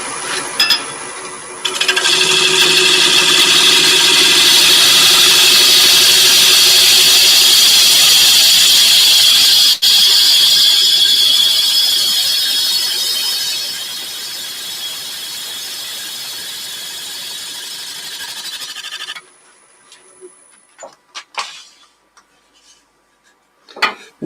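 A wood lathe spins a spindle blank while a gouge rounds it off, giving a loud, steady scraping rasp for about seventeen seconds that eases off, then stops into scattered clicks and knocks.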